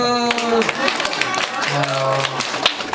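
An audience claps in bursts during a quiz segment of a small concert at Formtec Works Hall, short scattered hand claps mixed with excited voices and cheering close by.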